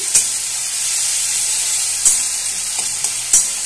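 Spices, including cumin and dried red chilli, sizzle loudly in hot oil as a tempering. A close, continuous bright hiss fills the whole stretch, with a few sharp ticks and pops of the spatula against the pan.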